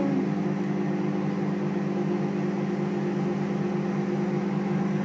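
A microwave oven runs while cooking a chocolate mug cake, giving a steady, even mechanical hum with an electrical buzz, unbroken and close for the whole stretch, with no speech.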